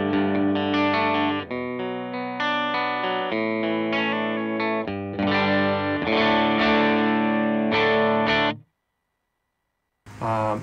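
Dry electric guitar through a Dual Matchless amp preset on a Line 6 HX Stomp, played as ringing chords and riffs for about eight seconds, then a pause before another loud strum at the end.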